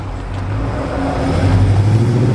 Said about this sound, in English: it's got a nice exhaust going all the way to the back, so it sounds good